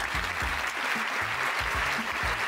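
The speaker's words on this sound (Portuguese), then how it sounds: "Palmas pro JP!" An audience claps at a Brazilian live comedy show, a steady, moderately faint wash of applause with a few rhythmic low thumps running throughout.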